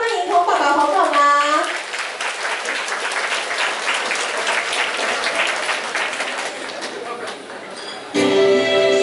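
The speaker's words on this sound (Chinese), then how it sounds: "掌声欢迎童爸爸童妈妈" A wedding banquet crowd claps loudly and steadily to welcome the bride's parents, with a voice briefly audible at the start and music swelling in near the end.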